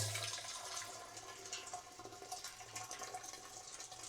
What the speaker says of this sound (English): There's our first lot of hot water.